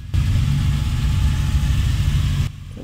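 A classic Ferrari 250 GT Lusso passing during a historic car rally, its engine a loud low rumble that holds steady for about two seconds, then cuts away abruptly.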